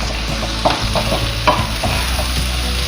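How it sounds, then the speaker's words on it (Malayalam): Capsicum stir-fried in a hot pan for a chicken roast, with a steady sizzle and repeated scraping stirs at a regular rhythm, close and fairly loud, no voices. "അപ്പോൾ ഇനി നമുക്ക് ഇത് ക്യാപ്സിക്കം ഇട്ട് കൊടുക്കാം."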